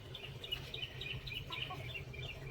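A backyard chicken clucks softly and repeatedly at close range, with low murmuring fowl sounds running steadily throughout over a faint ambient background.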